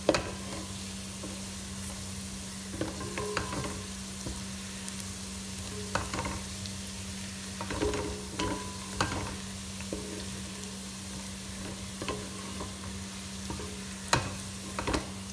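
Cauliflower and potato browning in a pan over a constant sizzle, with repeated scraping and clinking of a spoon stirring them at an uneven rhythm, close and moderately loud.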